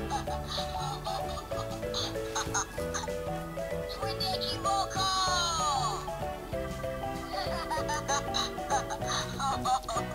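An interactive plush toy from The Lion Guard laughs in a high, bouncy electronic voice over a constant, busy musical jingle, loud and close.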